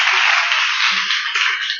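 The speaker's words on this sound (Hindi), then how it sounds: "हालेलुया, एक जोरदार ताली यीशु के लिए।" A church audience gives a round of applause for Jesus, with dense, steady clapping that stays loud and even throughout the short burst.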